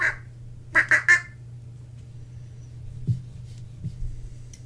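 A person imitates a duck with a short burst of three nasal quacks in quick succession, close and fairly loud, over a low steady hum, then near silence with a couple of faint bumps.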